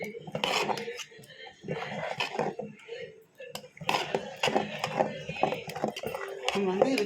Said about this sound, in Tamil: இதை வந்து இப்போ நல்லா மிக்ஸ் பண்ணிக்கலாம்